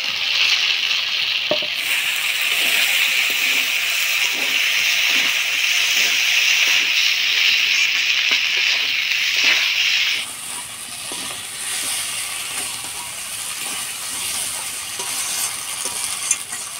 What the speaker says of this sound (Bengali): এবার ভাজা চিংড়ি মাছগুলো দিয়ে নাড়াচাড়া করে নেব।